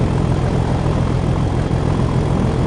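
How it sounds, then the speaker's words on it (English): Class 37 diesel locomotive at full throttle struggling up a hill in Train Sim World 4, a loud, dense, unbroken engine drone without voices. "I'm gonna full throttle this now because we are struggling up the hill."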